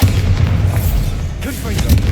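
A Bombarda blasting spell detonates in Hogwarts Legacy as a deep, rumbling boom that fills the short stretch with heavy low-end energy and a brief burst near the end.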